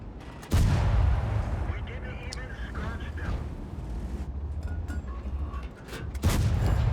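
Two heavy tank cannon shots boom in World of Tanks, one near the start and one near the end, with battle rumble and a voice talking between them.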